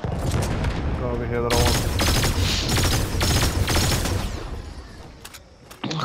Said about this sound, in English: Who are you shooting with the blue gun?